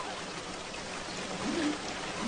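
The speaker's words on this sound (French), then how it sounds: "Normal, il pleut." Rain falling on a video game map: a dense, steady hiss of rainfall, fairly faint and continuous throughout, with no clear talk over it.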